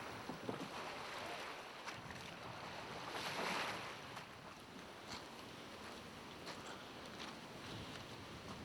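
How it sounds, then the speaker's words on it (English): Strong wind and big waves batter a rowboat on Windy Arm in the Yukon, a steady rushing roar with a brief surge of spray near the middle and no voices. "Some of those waves are so big, you gotta put your oar down and you don't even hit the water"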